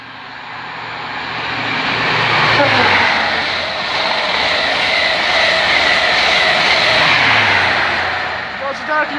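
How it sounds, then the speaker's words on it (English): A Class 43 train passes Hitchin on the East Coast Main Line, a loud rising roar of engine and rails that swells, holds, then fades; the two-tone horn is not clearly evident. "the next train to pass by is going to be 43"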